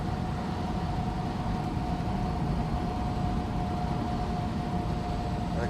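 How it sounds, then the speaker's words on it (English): A 1968 Ford Mustang 390 GT Fastback V8 idles steadily, a continuous low engine rumble heard close and alone, with no talk over it. "engine that purrs absolutely gloriously."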